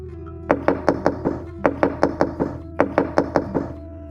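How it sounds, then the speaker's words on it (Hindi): Loud, heavy knocking on a door on a stormy night in an animated Hindi horror story, struck in three rhythmic bursts of four to six raps each, close and alone. "उन लोगों ने ज़ोर ज़ोर से मेरा दरवाज़ा खटखटाना शुरू कर दिया।"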